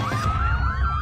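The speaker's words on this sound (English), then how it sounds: "A siren sounds." Short emergency siren sound effect, a loud wailing tone sweeping up and down in quick cycles over a low rumble, with no voices.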